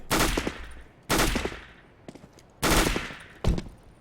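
MP9 submachine gun firing in CS:GO, four loud close bursts of rapid shots separated by short pauses, no talking.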